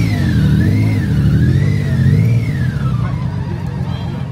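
A BMW engine revs hard in a steady rising and falling roar, pitch swelling and dipping several times before settling into a lower idle rumble, loud and close with no talk.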